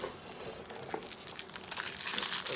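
Crinkling plastic wrapper being handled and pulled open, a run of rustles and sharp crackles growing busier toward the end, close by.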